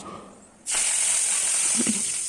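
Mustard seeds, cumin, asafoetida and two Kashmiri chillies crackle in hot oil in a kadhai for a sambar tempering, a loud steady hiss that bursts in suddenly and runs on with a few pops.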